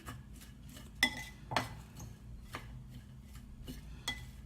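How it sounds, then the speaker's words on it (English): Gotu kola salad being tossed with lime juice, with a few sharp clinks of a utensil against a bowl and soft scraping between them, close and fairly quiet. "Just put everything together and mix this up really well."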